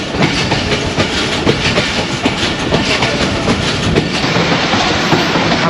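The 39UP Jaffar Express rolls on a single line into Badami Bagh railway station, slowing down with loud, steady clickety-clack of wheels over rail joints, heard from close by on board with no voices.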